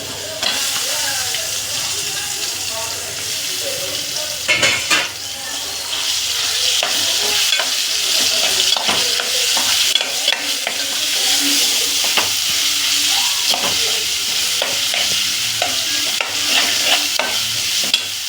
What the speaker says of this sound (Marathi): आणि याच्यात आपण खिमा सोडून घेऊया.